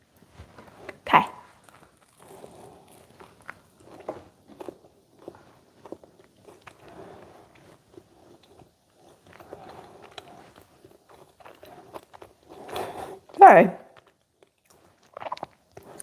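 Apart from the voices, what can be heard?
biting and chewing high protein air fryer bagel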